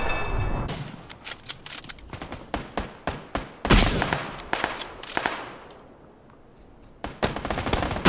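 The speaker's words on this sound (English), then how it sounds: "Yep, they're shooting at you." Gunfire in PUBG Battlegrounds during a squad match: repeated bursts of shots and rapid automatic fire crackling near and far, with short pauses and a quieter stretch before a final loud volley.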